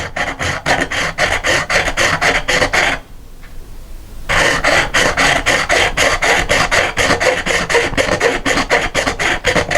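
Hacksaw blade cutting through a coconut shell, a steady fast rasping of back-and-forth strokes up close, pausing briefly after about three seconds before the sawing resumes at the same brisk rhythm.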